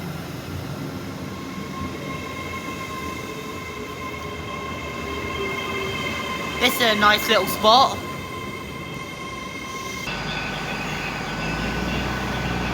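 Great Western Railway train 800 007 departing Swindon station, a steady low electric-diesel hum and rumble with a brief squeal near the end, under someone talking and a station announcement tone.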